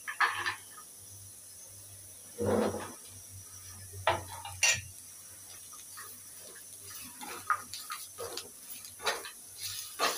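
Thinly sliced dried coconut is roasted with onions in a pan. Quiet scrapes and clinks of a utensil against the pan come in scattered bursts over a soft background hum, with no talk.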